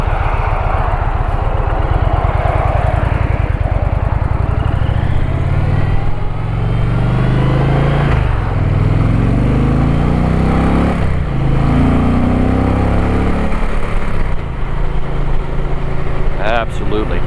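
An Indian motorcycle engine drones loud and steady under heavy wind rush as the bike is ridden, with a rider talking over the noise nearly the whole time.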